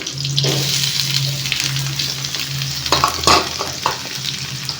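Ivy gourd (tondakaya) frying in a pan for a home-style fry, with a soft continuous sizzle, a steady low hum beneath, and a few sharper scraping stir sounds near the end; no talking.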